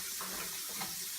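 Greasy hands are washed under a running kitchen tap after handling bread dough, heard as a close, continuous rush of water hissing into the sink without a break.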